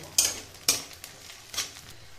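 Grated coconut and raisins fry in a pan while a spoon stirs them, producing several sharp scraping strokes over a faint background sizzle.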